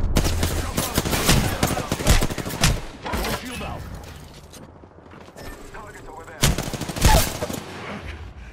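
Rapid bursts of gunfire and clattering weapon mechanics in the video game Apex Legends, loud and close in two dense volleys with a quieter gap between, while a voice talks over the shooting.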